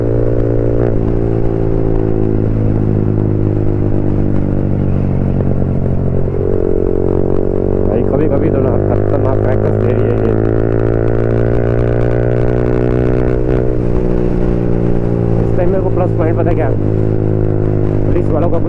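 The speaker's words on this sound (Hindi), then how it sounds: "भाई क्या क्रैकर्स मार रही है भाई बीच बीच में" Yamaha MT-15 motorcycle fitted with an Akrapovic exhaust and no dB killer, decatted engine, revving loudly and steadily with rising and falling pitch and occasional crackles popping through, close up, with someone talking over it.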